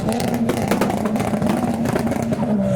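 A boosted engine in a large sedan revs hard at a modified car meet, a loud, steady, raspy drone held close by throughout, with faint clatter from the surrounding crowd.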